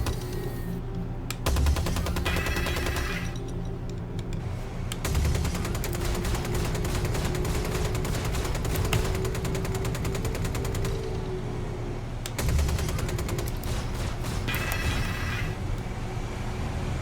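A front-mounted Gatling gun on a Star Citizen ship fires in long rapid bursts, a dense mechanical rattle that runs almost continuously over a steady engine hum, with short pauses between bursts.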